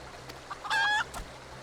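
Clucking from Enkidu, the tamed green-painted rooster companion in Final Fantasy XIV, a short drawn-out call among faint soft clucks over a quiet background.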